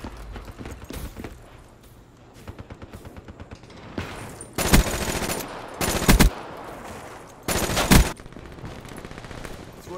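An FFAR rifle in a Call of Duty match fires in rapid automatic bursts, three loud sustained volleys standing out after quieter scattered shots and game ambience.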